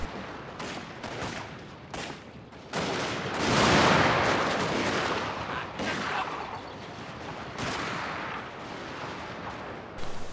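Musket units volleying in Total War: Fall of the Samurai, a long ragged crackle of many overlapping shots with denser bursts swelling midway, a steady distant battlefield fusillade.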